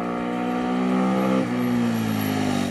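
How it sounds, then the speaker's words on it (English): An SWM Superdual T 600cc single-cylinder motorcycle drones steadily at speed while being ridden, then drops in pitch abruptly midway as the rider shifts gear, with a constant buzzy engine note throughout. "The engine sounds more like a big dirt bike than a polished adventure tourer"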